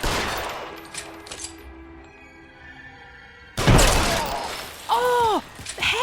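A single sharp gunshot in the L.A. Noire video game, a loud burst that cuts in abruptly after a quieter stretch, followed by brief whistling tones.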